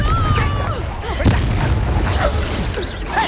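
A Confringo spell in Hogwarts Legacy bursts into a fiery explosion with a sharp boom near the middle, surrounded by game combat noise and shouted voices.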